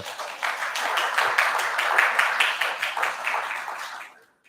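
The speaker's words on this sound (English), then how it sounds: "give them a clap" An audience claps for the presenters at a community meeting. The applause is steady and rhythmic, swells and holds for several seconds, then dies away to silence.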